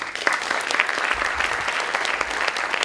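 Audience applause at a panel session of a social venture funds forum, a steady dense clatter of many clapping hands filling the room throughout.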